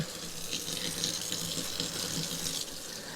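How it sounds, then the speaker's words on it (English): Pot roast meat is rinsed under a running kitchen tap, giving a steady, fairly close hiss of flowing water that continues evenly for about three seconds before easing slightly, with no speech. "Just give them a rinse."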